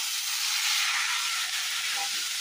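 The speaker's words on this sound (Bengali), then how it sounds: "এবার এর সাথে দিয়ে দিচ্ছি আগে থেকে ধুয়ে বেছে রাখা সজনে ফুলগুলো।" Washed drumstick flowers (sajne phool) hit a hot pan and sizzle with a steady, close hiss that holds evenly throughout, with no voices.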